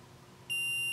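An electronic battery low-voltage alarm switches on partway through, a sharp steady high-pitched beep tone starting abruptly and holding, alone against a quiet background.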